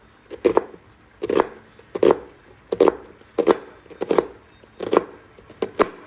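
A knife chops an onion finely on a cutting board in a series of sharp, close knocks, grouped in short rapid bursts with pauses between, alone without talk.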